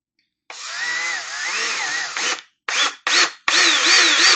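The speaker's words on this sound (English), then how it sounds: "So I'm going to start with a 1/4 inch drill." A 1/4 inch drill bores into a KZ400 motorcycle seat base, whining loudly and steadily for about two seconds, then stopping and restarting in three short bursts, close and alone.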